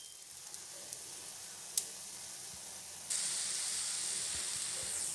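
Banana dosa cooking in ghee on a pan, giving a soft steady sizzle with a few light pops, which turns noticeably louder and brighter partway through and then holds, with no one talking.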